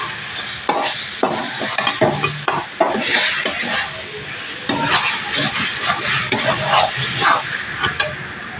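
Potatoes are stirred into a sizzling spice masala for an egg and potato curry, a spoon scraping and clattering against the pan in irregular bursts over a steady frying hiss, close up.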